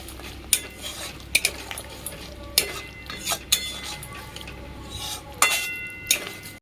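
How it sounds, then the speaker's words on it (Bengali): Spices with a pinch of asafoetida are stirred in a pan while cooking chhanar kalia, a Bengali paneer curry. Repeated metal clinks and scrapes of the spoon against the pan sit over a soft sizzle. There is no talking. "এবার আমি এটা কিছুক্ষণ নেড়ে নেব।"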